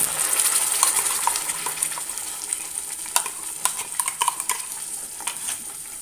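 Bright sizzling burst as ground spice paste is poured into a hot pan for prawn curry, settling into steady frying, punctuated by scattered clinks and scraping of a spoon.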